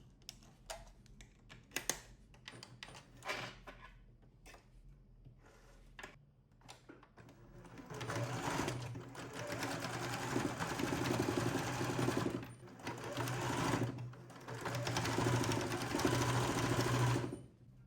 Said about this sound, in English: let's start sewing our little goose